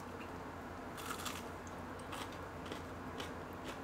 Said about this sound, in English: Oh, it's super crunchy.